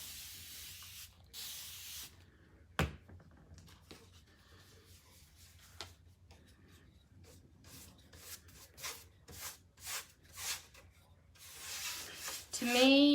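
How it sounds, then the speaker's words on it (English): A spray bottle spritzes onto a signpost in a handful of sharp, hissing bursts: scattered ones early, then a quick run of several close together near the end. Faint rubbing and handling noises fill the quiet between them. "I'm going to spritz it down again."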